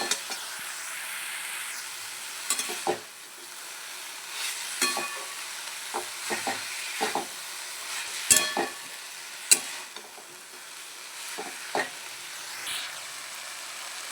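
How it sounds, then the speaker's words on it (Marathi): Vegetables for a spicy chigal (small ghol) sabzi sautéing in oil in a pan after garlic was roasted, a steady soft sizzle broken by intermittent stirring scrapes and clinks, close and moderately quiet with no talking. "आणि भाजी आहे ती पण छान आपल्याला परतून घ्यायची आहे"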